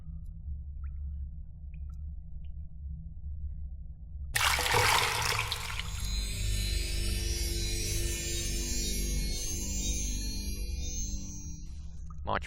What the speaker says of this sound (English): A bowl of healing water.